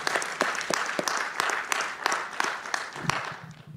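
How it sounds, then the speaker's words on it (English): A conference audience applauds after a poster session, with a steady wash of many hands and scattered sharp individual claps standing out, moderately loud, lasting several seconds with no talk over it. "Let's give them a round of applause."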